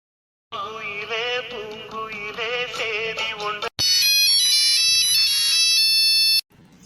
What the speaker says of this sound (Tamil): ரிங் போயிட்டே இருக்கு